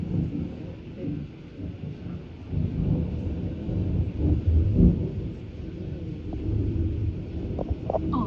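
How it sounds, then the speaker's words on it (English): Low thunder rumbles through a Tulsa thunderstorm with rain and gusty winds, swelling and fading over several seconds, a deep, fairly distant roll. "That's the big thunderstorm ever."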